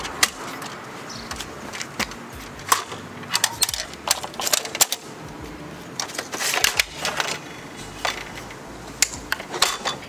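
A miter attachment for an IQ tile saw is fitted onto the saw's sliding table, with close, scattered clicks, light metallic taps and small mechanical rattles at irregular intervals and no talking.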